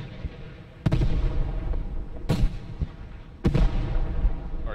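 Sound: artillery fire in a military video game

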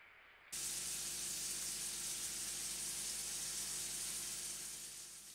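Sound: onions frying in oil until browned

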